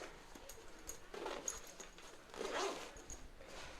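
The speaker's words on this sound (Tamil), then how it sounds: "மேலே நமக்கு வந்து ஒரு சின்ன ஜிப்பு இருக்குது" A Fi-Tech camera bag's small zipper is drawn in a few short, soft rasps, close by but quiet, with no talking.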